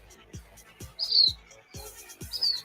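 Short bird chirps and whistles recur in a quiet space, with soft low thumps between them.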